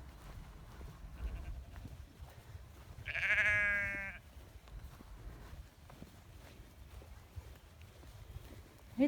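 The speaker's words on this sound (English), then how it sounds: "Sheep are having a right good chit chat." A sheep bleats once on an open mountain walk in the Brecon Beacons, Wales, a clear wavering call in the middle of a quiet outdoor scene with soft wind and rustling around it.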